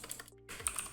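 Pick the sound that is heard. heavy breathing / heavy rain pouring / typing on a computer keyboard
typing on a computer keyboard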